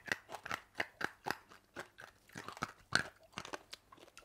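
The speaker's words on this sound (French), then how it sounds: "Attends, je le mange, ouais, voilà. On mâche, on y va." A candy chewed close to the mouth, with a steady run of sharp crunches and bites about three per second, loud and dry against near silence with no talking.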